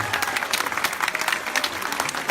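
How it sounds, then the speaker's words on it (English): Dense, steady audience applause fills the room at a fairly even level, many hands clapping at once after an evening talk by activist Dolores Huerta in Arizona. "Please join me in a round of applause"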